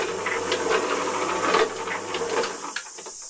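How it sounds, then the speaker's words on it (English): Steady hissing, spluttering spray of oil squirting from a bore pump under repair, continuous and close, tapering off near the end. "the oil comes squirting out and goes all over the bloody floor"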